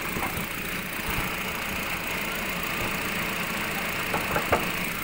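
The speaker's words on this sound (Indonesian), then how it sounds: "Mesin suaranya masih sangat halus dan bersih" A 2009 Nissan Grand Livina XV with a manual gearbox idles with its hood open, giving a steady, even mid-pitched hum from close by, with a few faint taps near the end.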